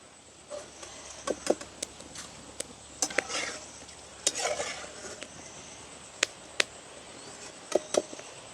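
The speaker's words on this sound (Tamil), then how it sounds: "இந்த நல்ல சலசலன்னு பொரியவன் வேணும்" Soft bubbling and sizzling of jackfruit frying in hot oil, punctuated by scattered sharp pops and crackles, fairly quiet and close.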